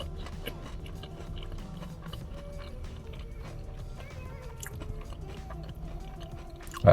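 Someone bites into a crunchy apple fritter and chews it up close, a steady run of crisp crunches and chewing without talk.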